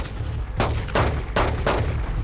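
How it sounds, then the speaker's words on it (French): Several gunshots fired at a car by two men, heard as three or four loud, sharp broadband blasts spaced roughly half a second apart over a low rumbling background. "Elle a entendu les coups de feu"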